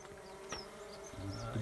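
A dense, steady buzz of many honey bees at a hive close by, a low droning hum with a few individual insects flitting past.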